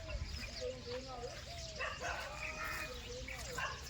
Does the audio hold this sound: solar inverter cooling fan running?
no